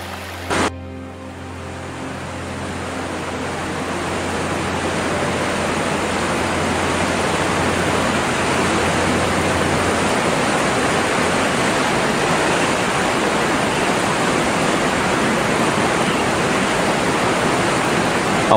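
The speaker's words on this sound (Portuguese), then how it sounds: "O rio Kunene, na fronteira com Angola, culmina em Epupa Falls, onde suas águas criam uma nuvem de água" Epupa Falls on the Kunene River at the Namibia–Angola border, a steady, loud roar of falling water that fills the whole clip, broadband and continuous, with a faint low hum fading out early on.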